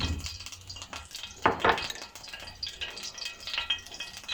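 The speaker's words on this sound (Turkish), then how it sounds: "Yumurtayı çırpalım. Biraz tuz koyalım." Eggs are whisked with salt in a bowl, giving quick, light clicking and tapping strokes with a couple of louder clatters near the middle, fairly faint and without speech.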